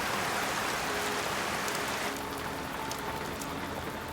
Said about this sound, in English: And there's that Amazon downpour.